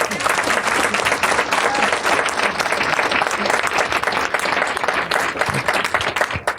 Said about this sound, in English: I'm going to note that as mild applause from an audience that surely includes some congressional staffers.